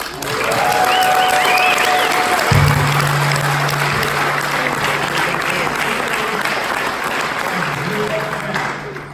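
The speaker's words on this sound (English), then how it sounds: "please give a big applause to Miles Standish." An audience at a regional company event grand finale applauds loudly and steadily throughout, with voices faintly mixed in beneath the clapping.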